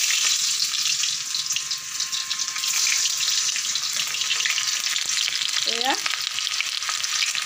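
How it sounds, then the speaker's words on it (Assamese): Dried chillies and onion fry in hot oil for a mutton curry, making a strong, even sizzle and crackle throughout, with a brief squeak near the end and one short spoken word. "ইয়াত তেলতে শুকান জলকীয়া দিছোঁ আৰু অকণমান পিঁয়াজ দি দিম।"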